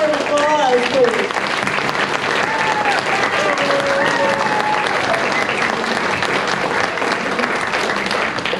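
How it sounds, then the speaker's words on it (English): An audience claps at a West Chester Symphony Orchestra fundraiser concert, with dense, sustained applause, a few whoops and voices in the crowd, all continuing at a steady level. "give him another round of applause, please"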